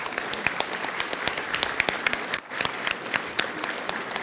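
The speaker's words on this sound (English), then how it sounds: "I would like to ask for a small round of applause" Audience applause at a forum session of a recovery conference, a dense round of clapping from many hands that stays steady throughout, with no talk over it.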